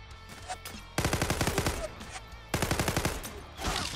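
Automatic MPT-76 rifle with a weapon skin fires in Zula, two sustained rapid bursts of crisp, evenly spaced shots, fairly loud, separated by a short gap with quieter game sounds.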